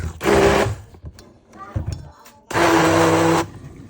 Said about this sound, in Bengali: হ্যান্ড ব্লেন্ডার দিয়ে ব্লেন্ড করে ফেলতেছি।